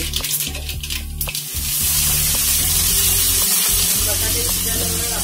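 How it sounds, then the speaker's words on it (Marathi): Potatoes being sautéed in a pan of hot tempering oil for a Maharashtrian broad bean dish give a loud continuous sizzle and hiss. Stirring clatters and scrapes come through in the first couple of seconds. "बटाटे परतून द्यायचे"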